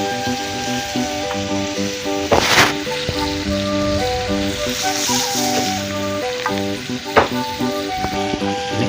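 Shrimp frying in a pan outdoors by a stream in a bamboo forest, a steady dense sizzle and crackle with occasional stirring scrapes and sputters, close and constant.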